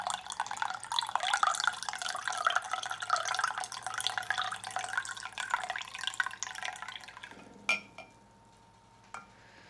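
Cold brew coffee pours into a small clear cup as a bright, continuous trickling splash that runs for several seconds, then stops. A few sharp clinks and drips follow in near quiet.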